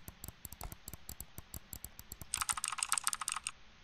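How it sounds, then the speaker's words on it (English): Computer keyboard typing in a ghost-hunting video game: a steady run of crisp, close key clicks that grows denser and louder toward the end, with no talking. "the keyboard sounds"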